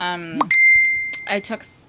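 A smartphone chimes with a short run of notification tones, a bright ding followed by a sustained electronic tone, mixed in with a woman's speech.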